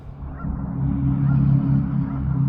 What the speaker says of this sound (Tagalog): So may mga wild duck na talaga dito.